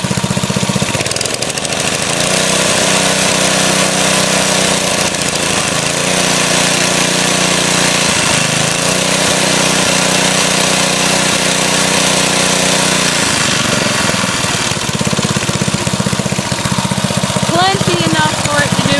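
A 1990 Briggs & Stratton edger engine runs loud and close, revving up and dropping back in a few swells over a rattling, buzzing idle, with someone talking briefly over it.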